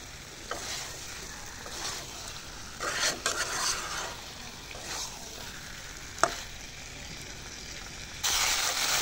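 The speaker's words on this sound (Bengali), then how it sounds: "মাংসটাকে ভালো করে ভাজা ভাজা করে নিতে হবে" Layer chicken meat frying in a pan for chicken bhuna, with a steady sizzle beneath repeated spatula scrapes and stirring clatter, close and without talk.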